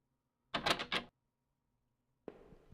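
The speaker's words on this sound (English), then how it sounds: "Stop it with the door noises." Door noises in a video game: a close mechanical clatter of several quick rattling knocks, a pause of silence, then a short scraping slide.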